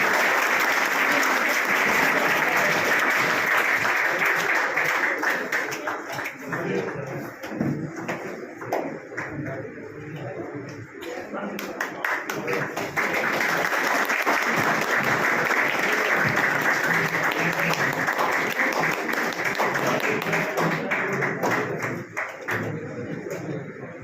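Sustained audience applause at a book launch event, a dense roar of many hands clapping that continues for over twenty seconds, briefly dipping then swelling again, with some scattered voices underneath.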